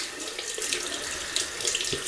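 Tap water running into a sink to soak a synthetic shaving brush: a close, steady splashing hiss with no talk.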